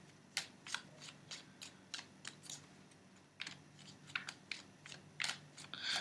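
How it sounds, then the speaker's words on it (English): Tarot cards being shuffled and handled by hand for a reading, with a rapid series of crisp papery riffles and flicks, close and fairly quiet, and no talking. "I'll pull out another card."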